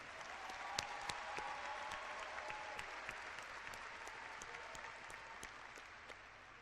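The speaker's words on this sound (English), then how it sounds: "Please give these students a round of applause." A graduation ceremony audience applauds the graduating students, a soft, distant wash of clapping with scattered sharper individual claps standing out throughout.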